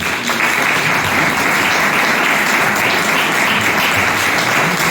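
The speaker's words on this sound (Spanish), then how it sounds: "Un aplauso para él." Dense, loud applause from a lecture audience in Linares greeting the speaker, a continuous wash of many clapping hands holding level from start to finish.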